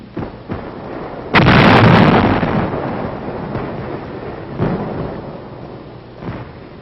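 A Bangalore torpedo detonates in World War II combat, one loud heavy boom rolling out for about a second, followed by fainter distant thuds under a rumbling background.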